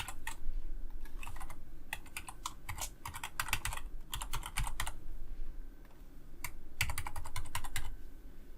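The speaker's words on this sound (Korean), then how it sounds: "이제 에뮬레이터에서 각 텍스트 폼 필드에 값을 입력해 주겠습니다." Fingers tap on a computer keyboard, filling values into form fields, in close, crisp clusters of rapid clicks. Short pauses separate the bursts of typing, and no one talks.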